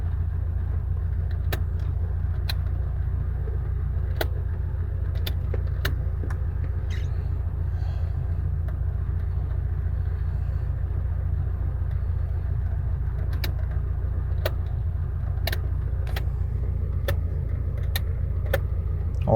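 A power generator runs steadily at a rural village home, a constant low engine drone with sharp metallic clicks and taps scattered over it, close and loud with no talking.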